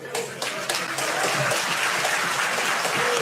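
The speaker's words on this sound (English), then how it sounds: "ANC clapping hands." Members of parliament in a chamber clap hands, a loud, dense wash of clapping with some mixed crowd noise that builds slightly and holds for a few seconds.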